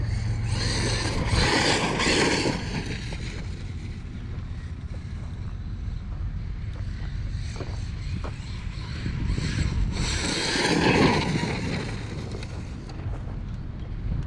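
Losi Super Baja Rey RC truck running at full speed outdoors, a steady loud motor whine and rushing roar mixed with heavy wind buffeting on the microphone, swelling louder twice, no talk.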